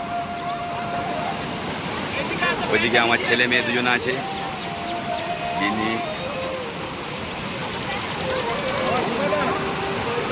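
A waterfall in Jaldapara forest gives a steady, broad rushing roar throughout, with several people talking and calling over it close by.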